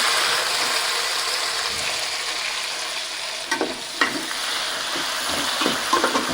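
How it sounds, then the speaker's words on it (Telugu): Tomatoes hit a pan of frying onions, a loud steady sizzle with scraping and clattering of a spoon stirring against the pan, close up and without talk. "ఇప్పుడు టమాటాలు వేసేస్తున్నాను"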